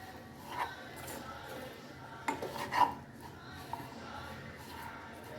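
Broad bean curry with grated coconut being stirred in a pan, giving faint scraping and rasping with a few light clinks of a spoon against the pan, quiet and intermittent, with no talk.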